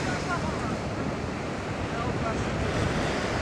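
Strong wind roars at a cold, stormy beach, with breaking surf under it and heavy, steady buffeting on the microphone the whole time.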